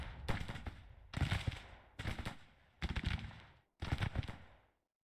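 Civil War infantry volleys in the strategy game Grand Tactician: five bursts of massed musket fire, each a ragged crackle of many shots lasting under a second, separated by short pauses and fading between volleys.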